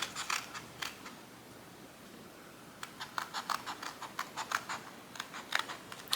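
Scissors fussy-cut a paper image of a lady from junk journal ephemera, heard as quiet, close, crisp snipping in irregular bursts of short cuts with brief pauses between.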